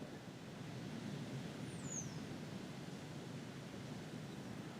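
Wind blowing across an outdoor garden where seeds are being sown, a faint, steady broadband rush with a distant bird chirp partway through and no talk.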